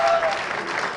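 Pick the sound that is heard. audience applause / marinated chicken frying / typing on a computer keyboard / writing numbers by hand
audience applause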